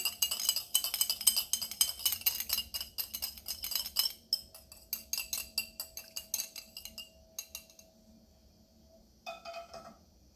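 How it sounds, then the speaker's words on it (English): A whisk beats salad dressing in a bowl with quick, rhythmic metallic clinks that slow and fade, then a few separate taps near the end. "Whisk this just so that they combine."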